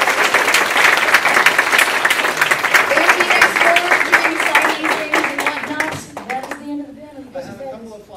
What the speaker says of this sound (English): Can I get a round of applause for him?